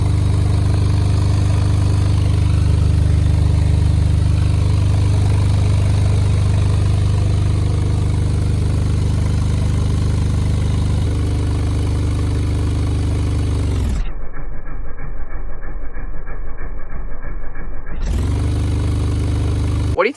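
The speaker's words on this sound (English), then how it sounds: "Let's play like 25 hertz through it, just so we can kind of see how this guy moves before we screw it down in the box." A Sundown Xv3 subwoofer, out of its box and not yet screwed down, plays a steady 25 Hz tone as a loud, continuous low drone that cuts out briefly near the end before resuming.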